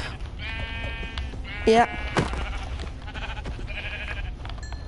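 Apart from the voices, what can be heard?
sheep bleating in the video game Minecraft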